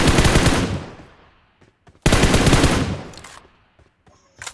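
M4 rifle gunfire in PUBG, two loud sustained automatic bursts that each fade out, separated by brief quiet gaps with faint clicks.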